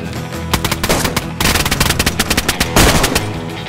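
Rapid automatic gunfire in the survival shooter DayZ, loud bursts of close shots in quick rhythmic succession with short gaps between volleys, sharp and dense throughout.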